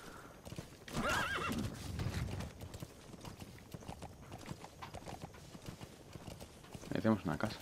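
A horse in Metal Gear Solid V gallops with a steady clip-clop of hooves, whinnying loudly near the start and again near the end, while someone speaks Spanish over the gameplay.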